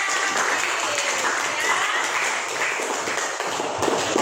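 A class of schoolchildren claps and applauds a student in a classroom, a steady dense patter of many hands lasting throughout, with faint voices underneath.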